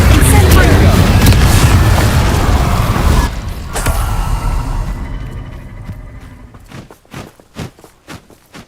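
A fire spell blast in the Hogwarts Legacy video game, a loud roaring burst of flame that dominates the first few seconds, fades away and gives way to quieter scattered thumps and footsteps.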